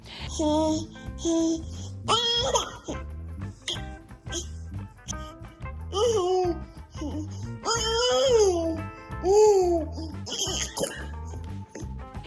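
A baby babbles close by in varied, sing-song bursts of high squeals and cooing syllables, rising and falling in pitch.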